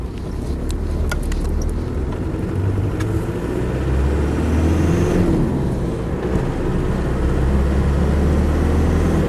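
A Land Rover 90 convertible with the 200Tdi diesel engine drives along, its engine giving a steady, fairly loud drone that rises slightly partway through, with a few faint clicks early on and no talking.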